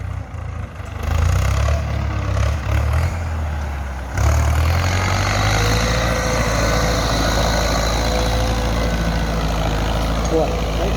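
A Ford 6600 farm tractor plowing a field with a three-disc plow runs with a loud, steady low diesel drone that holds throughout and swells slightly midway, with someone talking over it.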